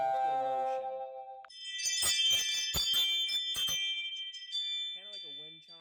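Ring video doorbell plays its default motion alert chime, a bright wind-chime-like run of ringing bell tones that swells loud, with a spoken voice before and after.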